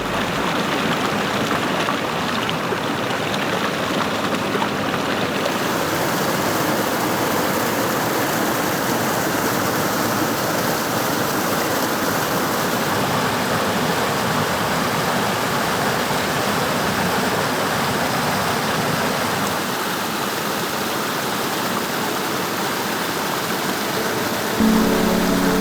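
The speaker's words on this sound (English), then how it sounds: "they end up falling asleep out here to the sound of that beautiful waterfall" Waterfall pouring into a pond, a continuous broad rushing hiss of falling water, steady and close, with no voices.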